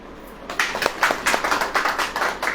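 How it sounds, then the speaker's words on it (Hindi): Congregation at a church worship service clapping hands in a quick, steady rhythm, loud and close, beginning after a short quiet lead-in and continuing without talk. "ताली बजाओ।"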